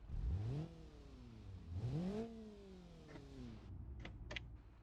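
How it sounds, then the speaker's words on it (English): A car engine revs in a video game, rising twice in strong sweeping pitch climbs then settling, with brief higher mechanical whines near the end; loud and close, no talk. "So let's hear our new engine."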